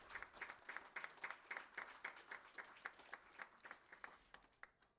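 Round of applause from an audience at a memorial lecture, steady rhythmic clapping that is moderately distant and continuous throughout.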